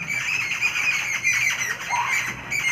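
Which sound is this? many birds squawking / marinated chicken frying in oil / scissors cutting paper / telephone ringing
many birds squawking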